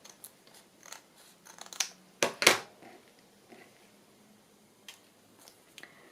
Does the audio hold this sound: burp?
no